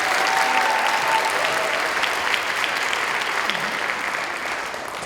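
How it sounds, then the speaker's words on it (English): Applause for a singer at a 2019 Daffodil event: a loud, dense crowd clapping that holds steady and tapers slightly toward the end. "let's give her one more round of applause."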